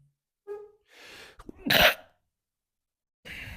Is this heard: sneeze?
yes